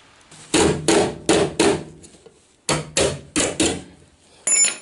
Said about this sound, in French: après quelques coups de marteau, elle commence à bien prendre sa forme